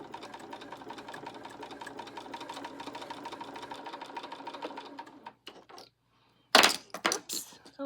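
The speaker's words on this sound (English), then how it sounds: "we are going to just stitch along the edge" A sewing machine stitches binding along the edge of a mug rug in a steady, close, rapid needle rhythm for about five seconds, then stops, followed by a few clicks and handling noises.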